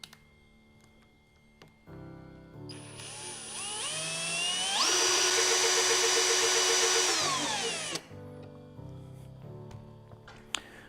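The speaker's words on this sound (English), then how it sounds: "now I'll just use the drill to get the carriage in position" An electric drill spins up and runs steadily for several seconds, driving the carriage of a whiteboard CNC machine into position, its whine rising in pitch and then cutting off, with quiet handling noises before and after.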